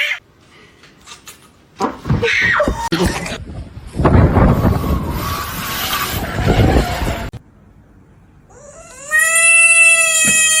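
A kitten meows and cries loudly, with rough noisy bursts early on and a drawn-out, rising high-pitched wail at the end.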